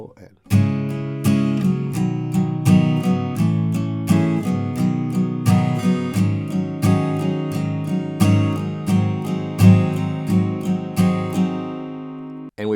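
An acoustic guitar strums the third line of a song's chords, a steady even strumming pattern of bright chord hits, close and alone.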